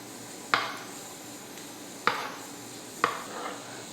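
Three sharp knife taps on a board as a boiled egg is cut into small pieces, unevenly spaced, close and fairly crisp over a quiet kitchen background.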